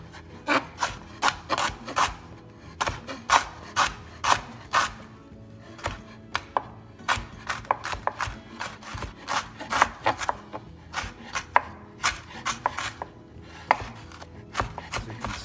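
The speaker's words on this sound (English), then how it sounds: "Same thing I'm going to do with the garlic and the ginger. Just chop it fine enough so it can be blended well." A knife chops cleaned garlic and ginger finely on a board, giving rapid, sharp, close knocks in uneven bursts with brief pauses between runs.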